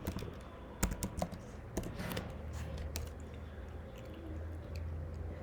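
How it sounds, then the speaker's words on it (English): Typing on a computer keyboard, irregular close clicks and clacks of keystrokes, a few sharper taps standing out, with soft background noise between them. "type the name of the header file"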